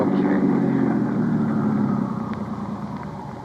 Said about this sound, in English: Just leave the engine running and both of you get out the right-hand door.